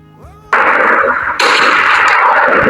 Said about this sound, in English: let's use this gunshot. It's even scary,